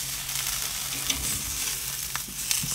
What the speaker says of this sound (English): now we go down for that sizzle. Direct over the coals, get that nice char on the outside.